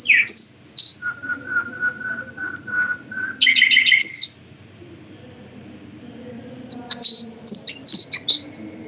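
A songbird sings close by in bright, varied chirps and sharp whistled notes, with a run of steady repeated whistles in the middle, alone over a faint low background rumble.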